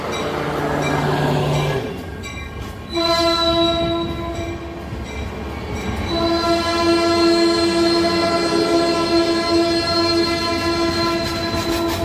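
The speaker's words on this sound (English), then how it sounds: "if I stop recording, I'm gonna miss him blowing the horn" A freight or passenger train rolls past while its horn blows loud sustained chords, with a brief low tone early on, then two long blasts over steady rumbling and wheel clatter.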